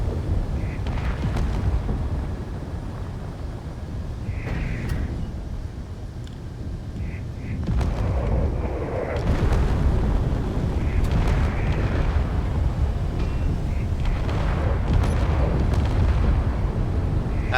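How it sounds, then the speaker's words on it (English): Heavy booming artillery fire and explosions from the video game Space Engineers during a ship battle, with a dense low rumble sustained throughout and repeated impacts swelling louder in the second half, and no talk over it. "That's artillery, okay."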